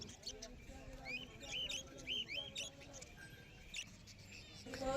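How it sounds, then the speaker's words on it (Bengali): Budgerigars chirping at the Galif Street bird market in Kolkata, quick high twittering calls in bursts against a busy background hum, moderately faint, with a voice speaking over them. "এখানে রয়েছে প্রচুর পরিমাণে বদ্রি পাখিগুলো, বিভিন্ন কালারের বদ্রি পাখি পেয়ে যাবেন"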